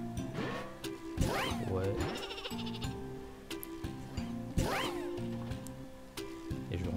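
Sheep in the Flockers video game bleat repeatedly, with several distinct wavering calls close up over game music and effects, while someone talks briefly between them.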